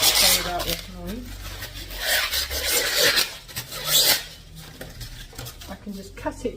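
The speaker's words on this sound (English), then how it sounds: "with my knife, I can just cut down, sorry about this noise" A knife scrapes and cuts down through material in a garden during a makeover, with rough rasping and rubbing strokes in an irregular rhythm, close and fairly loud.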